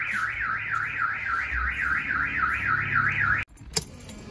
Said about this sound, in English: Set up the alarm.